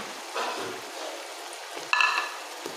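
Matar chawal (peas and rice with potatoes and lemon) being stirred in a pan, with soft scraping and a light sizzle, a louder stir near the end.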